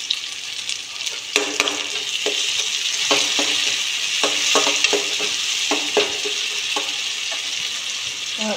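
Browned onions and finely chopped tomatoes fry in a pan, a dense steady sizzle with repeated scraping stir strokes and light knocks of a spoon at close range. There is no talking.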